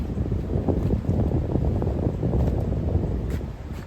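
Strong, steady wind roars across the microphone with a dense low rumble and occasional gusts, continuous and close throughout, during a spring beehive inspection.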